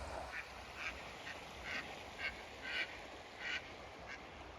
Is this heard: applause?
no